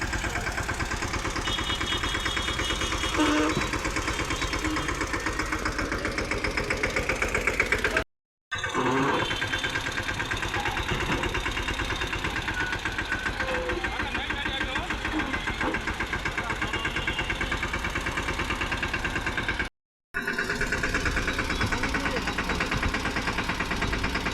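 An old tractor engine chugs steadily and loudly throughout as it is loaded onto a small truck, with a rough knocking rumble and two brief dropouts.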